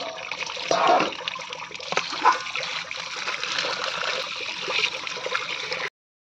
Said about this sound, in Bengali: আর আমি এখানে চলে এসেছি চিড়েটা ধুতে